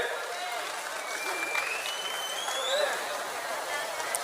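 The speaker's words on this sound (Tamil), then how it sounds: "உங்களின் பலத்த கைத்தட்டலோடு அவருக்கு பரிசு வழங்கப்படுகிறது" Audience applauding at a prize ceremony on stage, a steady wash of clapping from a large crowd that continues evenly throughout, with faint voices underneath.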